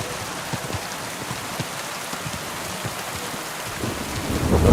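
Steady rain hisses in the medieval game Kingdom Come Deliverance 2, with low thunder rumbling underneath and swelling louder toward the end.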